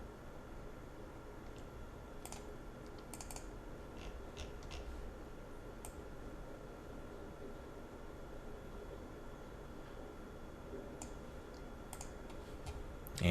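Faint clicks of a computer mouse, a few scattered light ticks in small clusters over a steady low hiss, with no talk.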